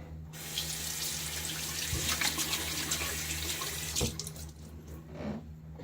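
Tap water running steadily into a sink while a shaving brush is rinsed under it, a continuous close splashing hiss with brief bumps and no talking.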